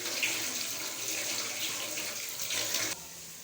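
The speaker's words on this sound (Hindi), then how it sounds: "अभी ये गोश्त धो रही हूँ अच्छे तरीके से साफ सुथरा करके।" Running tap water splashes steadily over about half a kilo of meat being washed in a sink, a continuous close rush that cuts off abruptly near the end.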